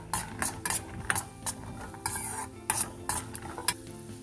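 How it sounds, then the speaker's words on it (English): Peanuts roasting in a little oil in a hot kadai, with repeated scraping and clinking strokes of a spoon against the metal over a soft, steady sizzle, close and alone without voices. "To this we'll add peanuts. Roast them a little bit."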